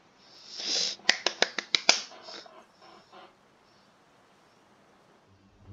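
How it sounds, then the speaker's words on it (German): Several quick hand claps land in a rapid burst of about six sharp cracks, close and dry, after a soft breathy rustle, then fade into quiet. "Ich hab nur geklatscht."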